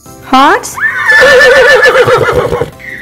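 A horse whinnies loudly and close, a high shrill call that wavers and trails off over a few seconds.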